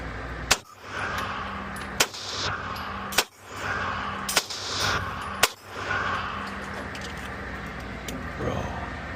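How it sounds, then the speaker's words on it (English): A ported Bull Armory rifle fires sharp, loud, cracking shots at a steady pace, about five reports spaced a second or so apart over continuous outdoor background noise. "That's 10 rounds through the Bull Armory"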